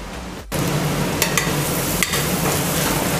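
Spices stirred and fried in a pan while goat meat is cooked, a brief quiet gap, then a steady loud sizzle broken by a few sharp scrapes of the spoon, with no voices.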